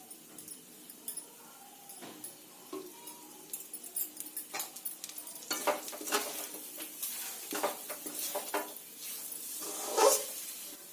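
A milk powder sweet fries in ghee with cardamom over very low heat, giving a soft, close sizzle broken by scattered crackles and stirring scrapes that grow busier toward the end.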